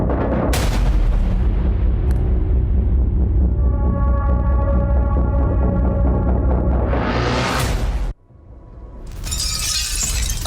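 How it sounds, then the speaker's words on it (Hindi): Russian Iskander missile strike explosions in wartime combat footage: a loud, sustained blast roar with shattering debris, a drawn-out rumble in the middle, then a sudden cutoff and a second burst of noise. "रूस ने स्कैंडर मिसाइल से हमला किया।"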